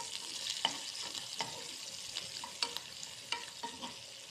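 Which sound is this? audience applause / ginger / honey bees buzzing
ginger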